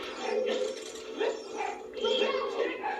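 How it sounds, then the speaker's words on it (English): An indoor dog barks in a run of repeated yips and woofs over game audio from an Ocarina of Time N64 session, with a voice faintly present. "the dog's barking because the cats are fighting outside."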